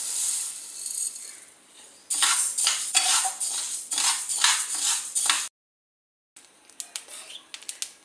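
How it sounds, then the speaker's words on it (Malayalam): One glass of rice dry-roasted in a pan for a Kerala snack, stirred with a spoon in rapid, clattering scrapes against the metal, nearby and fairly loud, broken by a short silence before the stirring resumes. "അതിലേക്ക് അരിയിട്ട് വറുത്തെടുക്കാം."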